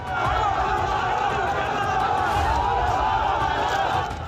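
A crowd of protesters mobs a BJP MLA outside Captain Amarinder Singh's residence in Chandigarh, Punjab, making a dense, continuous roar of shouting and chatter, close and loud, with voices overlapping throughout.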